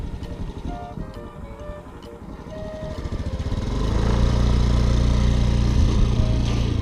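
An automatic scooter engine runs nearby during a beginner riding lesson, starting at a low idle and then revving up into a louder, steady drone that holds to the end.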